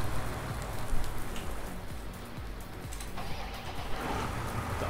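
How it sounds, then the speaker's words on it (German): Rain in the video game Farming Simulator 19 falls as a steady dense patter on surfaces, with a low vehicle engine rumbling beneath it throughout. "Also wenn der Regen kommt, genau richtig, wenn die Fahrzeuge sauber werden."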